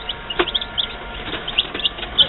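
Barred Rock chickens, a rooster and a hen, clucking and calling outdoors at a hatching, with short scattered calls close by over a steady background hiss.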